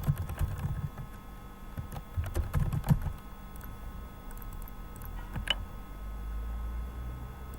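Keys clatter on a computer keyboard as HTML code is typed, a fast burst of close clicks at first, then sparser taps and quieter pauses.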